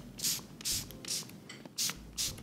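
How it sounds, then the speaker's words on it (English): LYS Beauty setting spray hisses onto a face in five short, bright, evenly spaced bursts, heard close and alone with faint handling noise between the sprays. "So shake it up and just spray your face."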